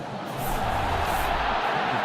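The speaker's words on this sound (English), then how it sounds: "The crowd does not like it." A large stadium crowd at a college football game between Hawai'i and Ohio State voices its disapproval, a broad, swelling roar of groans and jeers that grows louder and holds steady.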